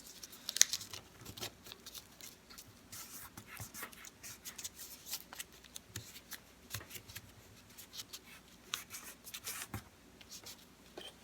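Paper luminary bag being folded and creased by hand, with soft crinkling, rubbing and sharp creasing rustles close up, mostly quiet with occasional louder crisp snaps.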